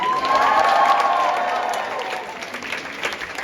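Crowd at a battle-of-the-bands grand final cheers and applauds, loud at first and then fading over a few seconds.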